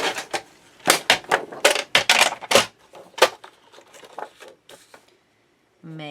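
Scissors cutting light cardstock for a shabby-chic journal pocket, a quick run of crisp snips and crunches close by, which taper into softer cuts before a brief pause.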